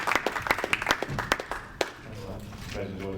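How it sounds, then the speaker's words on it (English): Audience applause after a presenter calls for a round of applause, heard as a scattering of sharp claps under ongoing talk that soon gives way to speech. "A big round of applause, please, for Daimien"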